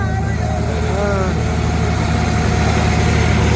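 A tractor engine idles close by at a tractor pulling contest, a steady low throbbing rumble that never changes pace, with voices faintly under it.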